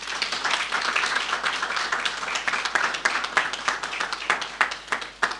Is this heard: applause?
yes